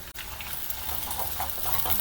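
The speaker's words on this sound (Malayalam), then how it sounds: "പച്ചമുളക് ചെറുതായിട്ടൊന്ന് മൂക്കട്ടെ." Green chillies sizzle gently in coconut oil, making a soft, continuous hiss with faint scattered crackles and light stirring, close by and with no talk.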